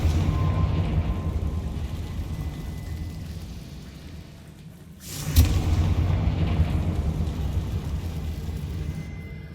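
Confringo blasting curse in Hogwarts Legacy: a sharp explosive burst midway through, rising out of a steady low rumbling game ambience, followed by continued heavy rumble.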